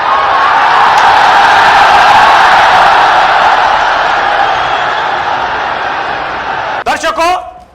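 At a political rally, a large crowd roars after a politician presents a gamchha: loud, sustained massed cheering that slowly eases, with a voice breaking in near the end.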